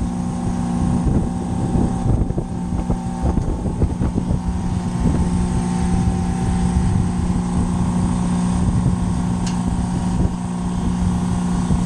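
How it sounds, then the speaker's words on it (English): A freezer's refrigeration compressor, with a frosted-over evaporator during a defrost cycle, drones loudly and continuously nearby with a steady low hum and rattling mechanical texture, no shutdown occurring. "Taking a while for the compressor to shut down."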